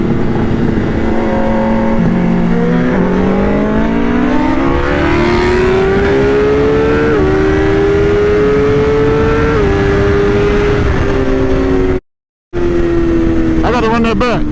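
High-performance sport motorcycles, including a Yamaha R1M, BMW S1000RR, Kawasaki ZX10R, Honda CBR1000RR, Hayabusa and GSX-R1000, roar loudly through rising gear pulls in a drag race, with one brief dropout near the end.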